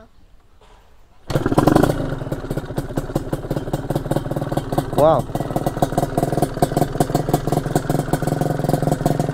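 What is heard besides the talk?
two-stroke motorcycle engine idling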